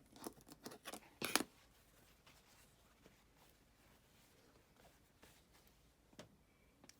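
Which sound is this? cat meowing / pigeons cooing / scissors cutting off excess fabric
scissors cutting off excess fabric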